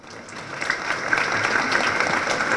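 Applause fills a hall at a ceremony marking the first year of an anticorruption justice system, a crowd clapping steadily and densely throughout, fairly loud, with no talk over it.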